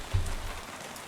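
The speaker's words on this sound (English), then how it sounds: "Probably the rain." Rain falls steadily in a video game, a soft continuous patter and hiss with a dull low rumble at the start, heard on its own.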